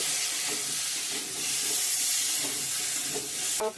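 Potatoes and pointed gourd fry in a covered pan, giving a steady, close sizzling hiss with faint stirring clicks throughout and a brief clatter at the end.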